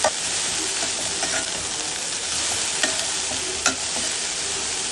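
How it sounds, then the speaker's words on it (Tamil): Chopped shallots and okra sauté in a pan for an okra tamarind pachadi, a steady close sizzle running throughout with a few light scraping stirs on top, no voices. "எல்லாத்தையும் இப்போ நல்லா வதக்கிக்கலாம்."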